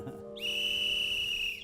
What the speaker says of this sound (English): Did anybody hear a whistle earlier?